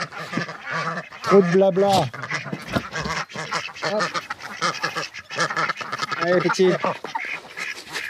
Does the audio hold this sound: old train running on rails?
no